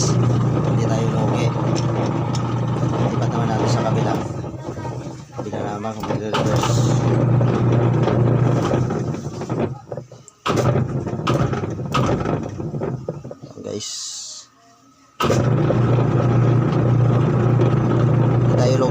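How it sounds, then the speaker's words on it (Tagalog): A washing machine motor runs during a repair test, with a steady low hum and mechanical whirring that carry on under someone talking, briefly dropping out near the end before resuming. "ay gumana yung motor"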